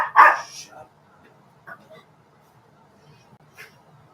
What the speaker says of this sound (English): Crazy chihuahuas.